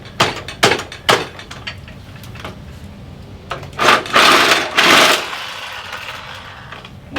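Hammering on a Harley-Davidson Street Glide motorcycle in a workshop: several sharp metallic strikes in quick succession, then a pause and a longer grinding, scraping burst, loud and close, with no talking.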